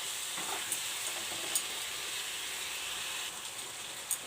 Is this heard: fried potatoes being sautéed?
yes